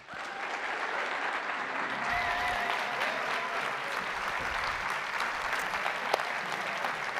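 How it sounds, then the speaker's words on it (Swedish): Sustained audience applause fills a concert hall in Lund as a moderator is welcomed onto the stage, steady dense clapping from a large crowd throughout with no pauses. "En stor applåd."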